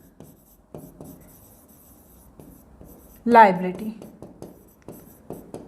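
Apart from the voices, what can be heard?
writing on a board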